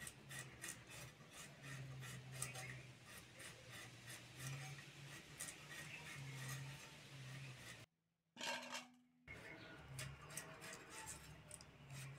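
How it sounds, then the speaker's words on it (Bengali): Skin being peeled off large taro roots by hand, a close, quiet stream of rough rasping and scraping strokes, cut off by a brief silence near the end before resuming. "প্রথমেই কচুগুলোর খোসা ছাড়িয়ে নেব।"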